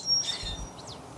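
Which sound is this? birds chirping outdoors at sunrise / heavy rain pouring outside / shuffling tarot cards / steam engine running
birds chirping outdoors at sunrise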